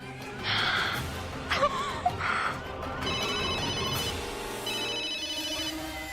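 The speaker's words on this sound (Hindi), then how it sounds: "गजाला देखो ना किसका फोन है।" A telephone rings with repeated electronic trilling bursts, moderately loud, over a low background hum and faint human sounds.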